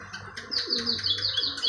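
Pigeon chicks being hand-fed chickpeas, giving rapid high-pitched squeaky begging chirps in quick repeated bursts, close and fairly loud with no talk.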